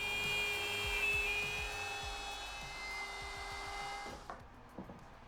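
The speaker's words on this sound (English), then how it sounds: "Now I'm cutting the first ring on the bandsaw" A bandsaw cuts a wooden ring for a budget poker table, its blade humming steadily while the wood rasps and scrapes up close, then the motor winds down near the end with a few knocks as the cut finishes.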